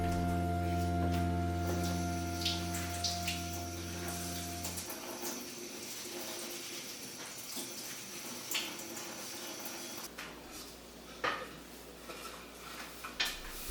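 Wooden cookware, engraved cutting boards and spatulas, is rinsed under a running tap late at night, a steady wash of water with occasional clatters and knocks after music fades.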